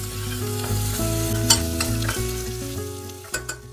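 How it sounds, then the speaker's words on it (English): Crushed ginger and garlic sauté in hot oil in a pan, sizzling steadily throughout with a few sharp stirring clicks of a utensil against the pan. "Heat some oil in a pan and saute crushed ginger and garlic until golden"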